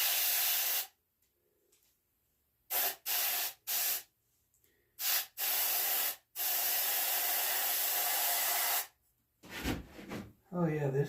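An airbrush or spray gun lays dark brown paint onto a coyote mount in a series of close, loud hissing bursts of varying length separated by silence, with a brief voice near the end.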